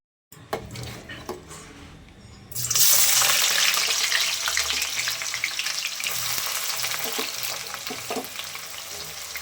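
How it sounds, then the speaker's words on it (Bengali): Onions hit hot oil in a pan for a home-cooked biryani and kosha mangsho meal, bursting into a loud, steady sizzle after a couple of quieter seconds of clatter, close and continuous to the end. "প্রথমত কাজ হচ্ছে আমার পেঁয়াজটাকে ভাজা"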